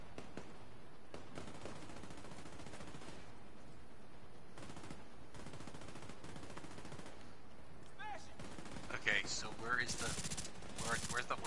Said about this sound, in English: Can you hear me shooting?